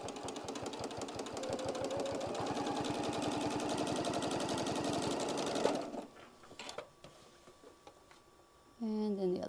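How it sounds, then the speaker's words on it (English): A sewing machine stitches along the fabric edge of a drawstring bag at a stitch length around 3 to 3.5, running in a fast, steady, close rhythm for about six seconds before stopping. A quiet pause with small handling clicks follows, then a voice speaks. "we're just going to stitch right there on the edge, right there, right just outside that"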